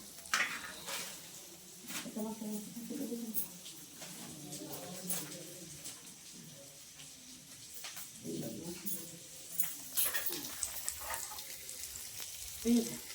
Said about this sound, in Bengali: এই যে একটু তেল দিচ্ছি, একটু নাড়াচাড়া করবো, একটু লাল করে মশলা দেবো।